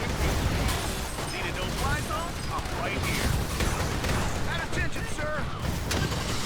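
A video game battle rages with a rocket battery destroying a Cyclops heavy tank: dense, continuous gunfire and explosions stay loud throughout, layered with whistling, chirping projectile sounds and no clear pauses.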